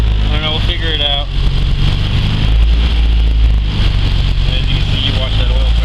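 A 400hp race Honda Civic engine surges at idle, its loud, rough rumble swelling and sagging in slow waves, with a person talking over the engine noise.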